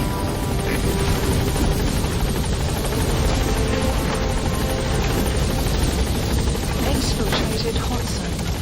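Helicopter Pequod in a video game arriving at the landing zone, a steady dense rotor and engine roar holding level throughout, with faint scattered impacts beneath.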